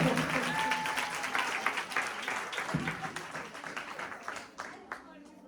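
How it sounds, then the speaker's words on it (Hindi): A church congregation claps steadily and loudly, with scattered individual claps standing out, while voices carry on underneath. "जोर से ताली"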